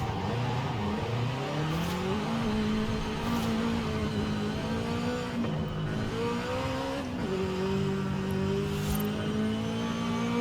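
Subaru BRZ lapping a track in Forza Horizon 5, its engine note climbing and dropping steadily through shifts and corners, with occasional faint tire noise, loud and continuous with no talk.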